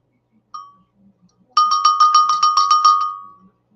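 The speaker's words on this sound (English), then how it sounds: "I have this cool old bell. It says Lucerne on it. I think it's a sheep bell." A small hand-painted Lucerne sheep bell gives one light ding, then a quick run of about ten bright metallic rings close up, fading at the end, with no talking.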